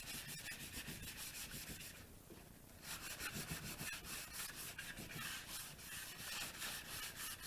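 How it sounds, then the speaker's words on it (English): A 220-grit sand block rubbed over a wooden piece finished with matte polycrylic to distress it, giving close, rhythmic rasping strokes with a brief pause partway through. "I've just got a 220 sand block here, and I'm just going to go ahead and distress this a little."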